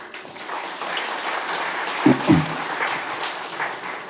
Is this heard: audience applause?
yes